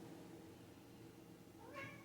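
A single short cat meow rises briefly near the end over a quiet, low background hum.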